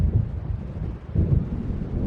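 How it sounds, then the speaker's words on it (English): Low, rolling thunder of an approaching storm rumbles continuously through a dark lakeside night in the video game Alan Wake, swelling again midway with heavy low-end weight and no voices. "It seems there's a storm coming."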